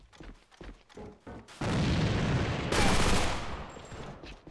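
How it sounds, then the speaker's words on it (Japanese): Grenade explosion and gunfire in the video game AVA: a few quick shots give way to a sudden loud roaring burst that swells, lingers for a couple of seconds and fades, with more scattered shots near the end. "手榴弾投擲"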